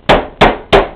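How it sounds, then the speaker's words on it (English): Three sharp, loud hammer blows land at an even pace on chicken breasts sealed in a zip-top plastic bag, each a hard thud with a quick decay. "I go ahead and I put them inside of a Ziploc, zip top type bag, and I go at it with a hammer"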